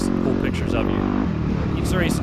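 A Yamaha YZ250FX dirt bike races in an off-road event, its engine droning steadily and rising in pitch through short revs, close and continuous beneath a rider talking over it.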